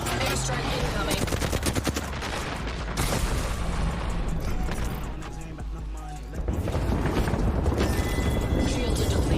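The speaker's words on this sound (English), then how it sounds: "Listen up, I'm getting shot at." Video game gunfire crackles in rapid bursts and sustained automatic fire, loud and close, with voices talking over the shooting.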